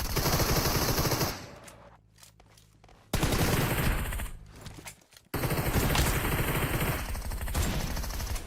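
Rapid bursts of automatic gunfire from a battle royale video game, loud and sustained with two brief lulls, the shooting cutting out and resuming sharply.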